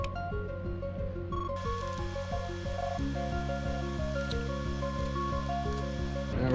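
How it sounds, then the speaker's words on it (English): Glue is squeezed in small wet squishes and drips onto Big Mouth Billy Bass parts, faint and close against steady, looping background music. "Just gonna put a dab of glue on it."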